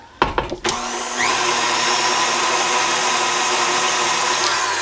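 After a few soft knocks, an electric mixer whirs steadily in a kitchen as it blends a yeast mixture, with a loud, continuous motor hum close by.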